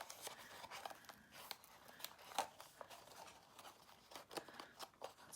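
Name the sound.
scissors trimming a ribbon on an acetate box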